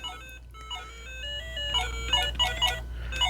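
The start-up music of an Excalibur Electronics Frogger handheld electronic game from 2005 with a reflective screen, a thin, beeping melody of quick electronic notes, played fairly faintly over a low background hum.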